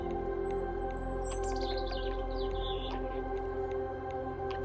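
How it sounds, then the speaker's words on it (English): A European robin sings thin, high warbling phrases over a loud, steady mechanical hum, the bird sounding somewhat distant and faint. "That's the sound of a beautiful red-breasted robin."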